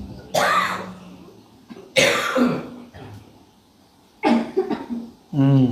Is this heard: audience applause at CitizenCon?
no